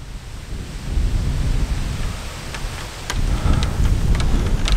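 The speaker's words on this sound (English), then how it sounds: "I'm not convinced by this because there was no wind 5 minutes ago" Wind sweeps across an open golf course, a continuous broadband roar buffeting the microphone and swelling in strength partway through, alone without voices.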